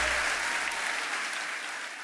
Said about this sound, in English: give yourselves guys a round of applause